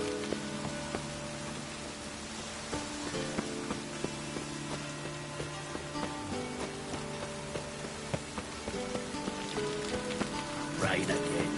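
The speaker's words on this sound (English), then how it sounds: "Rain again." Rain falls steadily in The Witcher 3, a dense patter of drops on surfaces with scattered sharper splashes and faint tonal game sounds underneath, continuous throughout.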